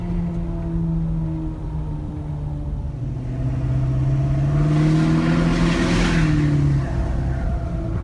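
A Ford 6.7 Powerstroke diesel truck engine rumbles loudly and close throughout a test drive after a fuel filter change, its deep drone swelling and rising in pitch as it accelerates, then easing back.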